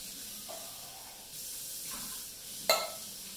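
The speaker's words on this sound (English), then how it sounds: "put your beans in the colander and rinse them off" Canned beans being rinsed in a colander under running water, a steady hissing spray that rises and falls in a few bursts, with a brief clatter near the end, no talk.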